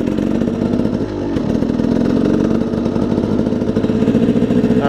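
Husaberg 300 two-stroke motorcycle engine running steadily while riding, a loud close droning note with a brief dip and recovery partway through, continuous throughout.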